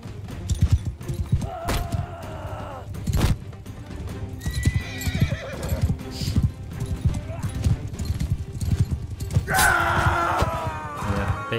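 Horses in a Bannerlord 2 battle, with hooves clip-clopping and thudding throughout and several loud whinnies, the clearest near the end, over game battle noise and grunts.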